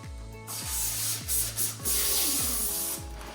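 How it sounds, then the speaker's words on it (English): Box cutter scoring a plexiglass sheet in repeated strokes, a close, loud scraping rasp with brief pauses between passes over a low hum, no voices. "you're going to grab your box cutter and you're just going to keep one consistent motion"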